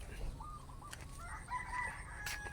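A rooster crows a few times in the distance in a rural farming village, over steady outdoor background noise, with faint bird calls mixed in.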